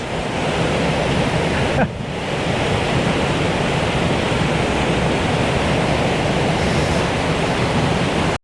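River water flowing beside a bridge over the River Chaorainn, a loud, dense, constant rushing roar with one brief dip near the start.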